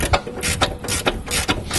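A ratchet with a 16mm socket works loose the tight brake caliper carrier bolts on a Range Rover L322, giving a rhythmic series of about eight close clicking strokes, evenly spaced, with no voices.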